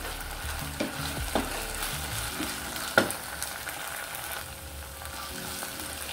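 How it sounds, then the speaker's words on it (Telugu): Ginger garlic paste frying in a pan gives a soft, steady sizzle, with a few spoon scrapes and one sharp clink, near and fairly quiet. "ఈ అల్లం వెల్లుల్లి పేస్ట్ పచ్చివాసన పోయేంత వరకు వేపుకోవాలి."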